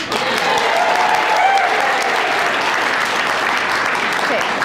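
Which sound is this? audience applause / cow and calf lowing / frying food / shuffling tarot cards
audience applause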